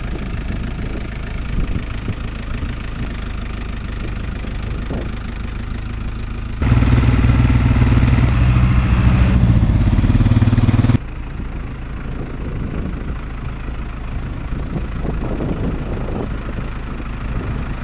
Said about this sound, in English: Get the tractor set up for that.